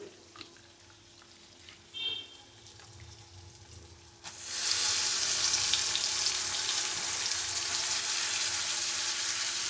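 Matki bhaji with onion and tomato in a pan: a few faint clinks in near quiet, then a loud, steady sizzle of frying bursts in and holds to the end.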